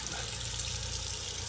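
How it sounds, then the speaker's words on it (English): Cold water runs steadily from a tap into a sink for a face rinse, a close, constant splashing stream with no talking. "I'll do a cold water rinse"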